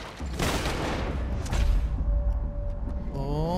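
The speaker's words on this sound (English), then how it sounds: "Shotgun." Shotgun blasts in the Red Dead Redemption 2 video game: two heavy booming shots about a second apart, each with a rumbling tail, followed by quieter ringing in-game sounds.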